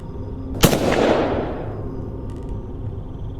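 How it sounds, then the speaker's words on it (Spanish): A single loud shotgun blast, sharp and booming, with a long rumbling tail that fades over a couple of seconds, heard alone without voices. "Mi abuelo preparó su escopeta y le disparó de nuevo."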